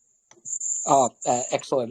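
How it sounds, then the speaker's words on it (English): Crickets chirping in a warm night setting, a steady high trill behind someone speaking close up during an online call. "what a beautiful ambience of the crickets, right?"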